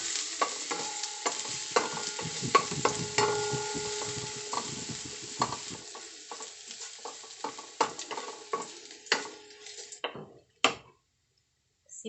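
Garlic frying in a pan for fish escabeche, a steady close sizzle broken by repeated scraping stirs and utensil clicks, fading out near the end.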